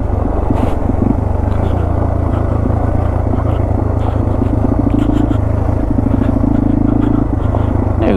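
Yamaha TW200 dirt bike ridden on dirt roads near a house, its engine barely warmed up, giving a loud, steady, close single-cylinder drone with rattling and road rumble throughout.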